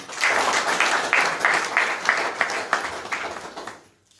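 Hearty applause for the guests at a Sunday business seminar in Jharkhand, a close, loud crowd clapping in a rhythmic, pulsing unison beat that fades out at the end.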